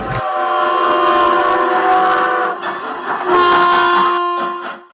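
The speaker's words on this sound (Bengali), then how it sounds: "ট্রেন চলছে? কেমন করে চলে?" A train runs close by with a loud, sustained horn blast over its rumble; the horn cuts out briefly partway, then sounds again before fading.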